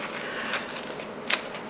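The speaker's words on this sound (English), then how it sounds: "it's very therapeutic to scrunch things up" Plain brown paper bag being crumpled and scrunched by hand, a continuous close crackling rustle with two sharper crinkling bursts, no talking.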